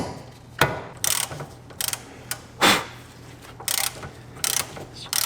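A ratchet tightens the axle nut on a Grand Caravan in short bursts of rapid clicking, several separate pulls close up with brief pauses between them.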